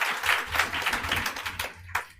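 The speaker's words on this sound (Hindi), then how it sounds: "एक बार इनके लिए जोर से सब लोग ताली बजा दीजिए।" A classroom of students bursting into loud, dense applause, many hands clapping at once close by before the sound trails off into a few scattered claps.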